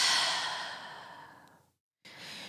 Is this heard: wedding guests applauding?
no